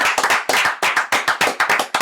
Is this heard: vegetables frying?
no